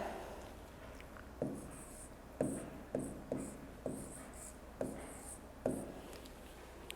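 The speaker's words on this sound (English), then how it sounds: "So, you can write it down there." Pen strokes on paper come in quiet, close, repeated bursts, each a short scratch followed by a soft trailing rub, spaced about half a second to a second apart.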